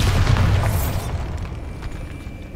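Bombarda spell explosion in Hogwarts Legacy, a loud close blast with a heavy low rumble that decays over about two seconds.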